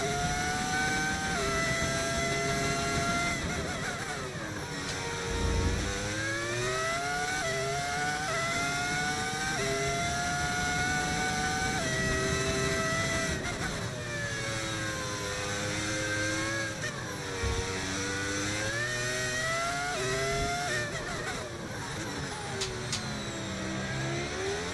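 A V10 Formula 1 car engine in the F1 25 video game screams loudly and continuously, its pitch sweeping up and down through gear changes as the car accelerates and brakes around the Monaco circuit.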